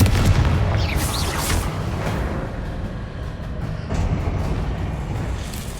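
Confringo spell explosions and combat effects from the video game Hogwarts Legacy, heavy booms and bursts layered over a dense rumbling background, with a voice calling out spells.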